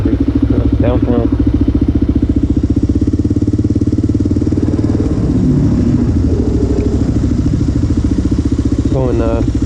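A Kawasaki KLR motorcycle rumbles through New York City with a loud, steady thumping engine note and some mechanical clatter, while a person talks over it.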